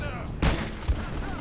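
Grenade fire in the video game Uncharted: Drake's Fortune comes as two short booming blasts about half a second apart over a busy game background, with a voice talking faintly underneath.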